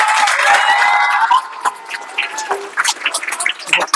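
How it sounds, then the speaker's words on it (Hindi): An indoor audience at a coaching class applauds, dense crackling handclaps starting loud and thinning into scattered, uneven claps and murmurs toward the end. "एक बार ताली बजाइए सर।"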